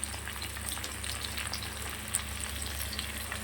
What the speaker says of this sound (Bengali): গোটা সাদা জিরে ফোড়ন দিয়ে ফুলকপি আলুটা ছেড়ে দিয়েছি